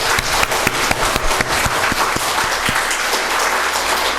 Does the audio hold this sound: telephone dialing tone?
no